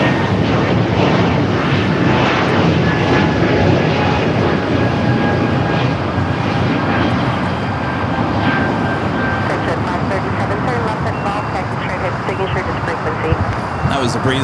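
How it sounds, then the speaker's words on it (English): A Breeze Airways airliner takes off from runway 25 right at LAX bound for Pittsburgh, a loud sustained jet roar with a thin rising whine that eases slightly toward the end, with voices talking over it. "That was a Breeze flight heading to Pittsburgh, Pennsylvania."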